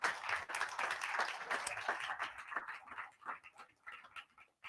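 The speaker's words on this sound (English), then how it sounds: "Give Gordon a massive round of applause" An audience applauds during the live final of a talent show. The clapping is fairly faint and distant, dense at first and then thinning into scattered claps before dying away.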